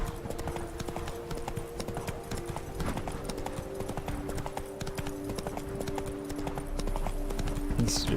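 Roach the horse trots in The Witcher 3: Blood and Wine, with rhythmic clip-clop hoofbeats repeating steadily throughout. A low sustained tone hums beneath the hooves.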